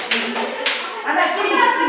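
Children in a Kazakh school maths lesson clap their hands in brief bursts of applause, a few quick rounds of close claps with voices mixed in.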